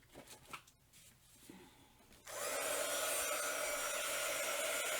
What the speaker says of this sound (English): I'm going to have to turn my heat tool on so I can dry that, because that is super, super wet